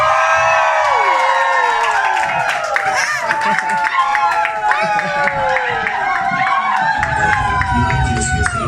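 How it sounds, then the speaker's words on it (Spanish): A live audience cheers, shouts and howls to welcome a performer on stage, a dense, loud crowd roar with whoops and some clapping that continues steadily throughout. "Así que recibamos con aplausos, gritos y aullidos a Mr. Wolf."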